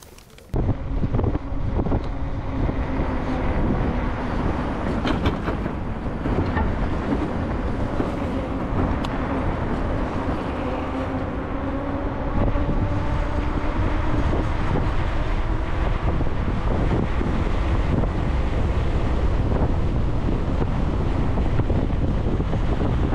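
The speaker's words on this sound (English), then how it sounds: "It's a wind tunnel." Strong wind roars across the microphone while riding a bike through a Chicago city street, a loud, steady rush that never lets up, with no one talking.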